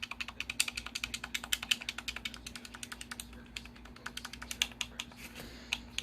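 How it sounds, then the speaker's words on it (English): Rapid, light plastic clicks from an Xbox Series X controller's buttons and directional pad, pressed in quick irregular bursts, close and fairly quiet. "D-pad's clicky, but it's nice."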